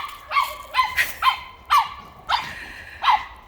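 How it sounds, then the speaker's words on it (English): A big farm dog playfully barks at a smaller dog outdoors, six sharp, close barks in an uneven rhythm, each with a quick high yelp-like tone, with quiet pauses between them. "she taunts the little dog"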